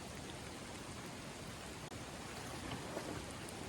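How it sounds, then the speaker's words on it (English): Steady, dense hiss of rain falling outdoors on a slick dirt trail, constant and even throughout with no voices. "It's been raining. It's raining now."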